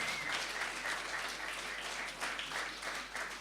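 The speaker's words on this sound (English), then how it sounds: "Give them all a round of applause" Fairly faint applause from a crowd, steady clapping that swells slightly in places and continues throughout.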